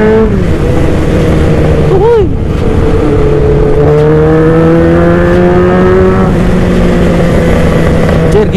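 Yamaha RX-King two-stroke motorcycle accelerating hard through the gears on a road, its engine note climbing in steady rising sweeps, loud and close, with other traffic around.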